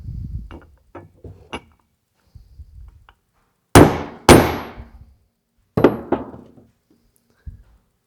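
Metal parts being banged down while fitting a Bendix fan clutch on a Kenworth KW900 truck: a few light taps, then loud ringing clangs in pairs, a second pair of strikes, and one final softer knock.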